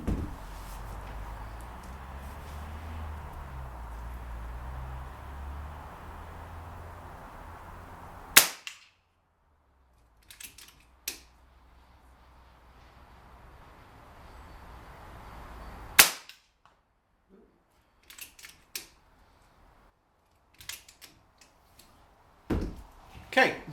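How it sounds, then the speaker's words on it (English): An air rifle fires H&N slugs as a few sharp, isolated cracks spaced several seconds apart in a quiet setting, the later ones closer together, after a stretch of low talk at the start. "So anyway, 5 shots, let's see what they can do."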